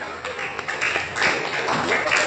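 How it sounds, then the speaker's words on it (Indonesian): A classroom audience claps hands in a short, fairly dense burst of individual claps, moderately loud and close, with some thumping taps mixed in. "Baiklah, tepuk tangan."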